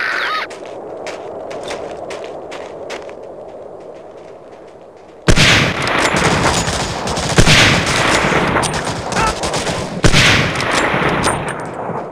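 Gunfire erupts at a gate in Medal of Honor: Allied Assault, loud and sustained machine-gun and rifle bursts that break suddenly out of a quiet ambient stretch and keep pounding with heavy impacts.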